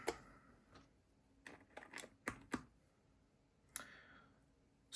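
Keystrokes on a keyboard fitted with Keymacs keycaps, heard as sparse, sharp clicks in small clusters with quiet gaps between them, close and fairly faint.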